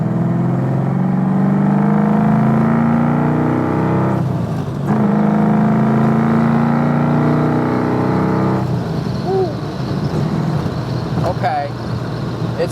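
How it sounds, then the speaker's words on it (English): A 1967 Ford Mustang S-code big-block V8 pulls hard in third gear, its loud rising drone holding steady with a brief dip midway before the engine note settles into a lower cruise. Road noise sits underneath. "Okay, so we're in 3rd gear. Let's let this motor breathe a little bit."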